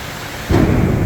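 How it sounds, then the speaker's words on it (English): A sudden low rumble of thunder from a storm overhead at Gaylord Opryland Resort in Nashville, Tennessee, swells in partway through over a steady background hiss, loud and close. "Oh, you hear the thunder?"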